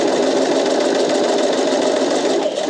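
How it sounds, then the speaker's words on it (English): An overlocker with a single needle runs steadily, sewing a three-thread seam on a tote bag in one loud, even, continuous whir with no talking. "I only overlock normally with 1 needle in, so it's just a 3-thread finish"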